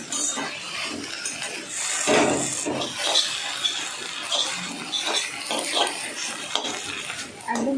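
Water poured into a pan cooking on a low flame, a hissing, scraping sizzle with rubbing and stirring noises, fairly close and uneven throughout.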